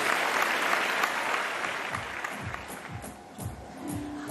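Game show studio audience bursts into applause, dense and loud at first, then thinning into scattered claps as a voice begins to speak over the end.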